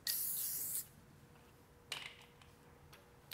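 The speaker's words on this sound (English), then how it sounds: "We use them, we spray them after the use, just like this." A short hiss of disinfectant spray on barber's hair clippers lasting under a second, followed by quiet with a faint click or two.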